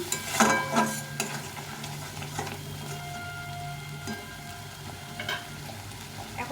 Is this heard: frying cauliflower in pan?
yes